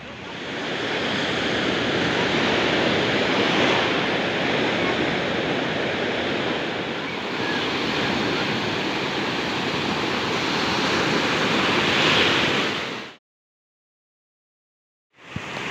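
Sea waves at the seashore roar as a continuous loud wash of surf with gentle swells in intensity, then cut off abruptly near the end.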